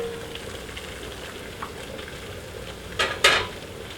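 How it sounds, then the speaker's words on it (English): Hot pint canning jars of carrot salsa lifted out of a boiling-water canner: a quiet bubbling, simmering background, then two brief, louder clinks of glass and metal near the end, with no talk. "Now it's time to take these jars out."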